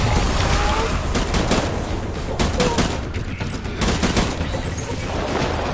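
Enemy soldiers open up with rapid sustained gunfire in Death Stranding, dense overlapping bursts of shots cracking close and loud throughout, with voices shouting underneath.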